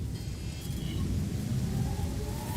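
Steady hiss of rain with low rumbling thunder in a video game on an alien planet, a continuous wash of rainfall with soft tonal game sounds faintly above it.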